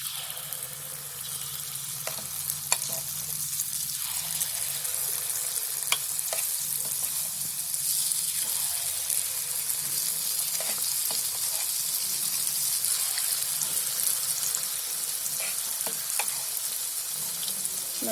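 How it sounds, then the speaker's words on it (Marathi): Sweet gulgule batter frying in hot oil, a dense continuous crackling sizzle with occasional sharp pops, close and steady throughout with no voices. "तेल तापलंय मस्त. आता त्याच्यामध्ये आहे ना मी एक चमचा सोडते."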